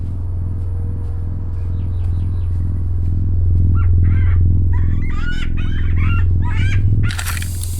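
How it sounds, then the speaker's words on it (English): Over a low continuous rumble, a bird squawks and clucks repeatedly in short bursts, growing busier toward the end before a sharp hiss. "Squawking will play when the player is very close to it."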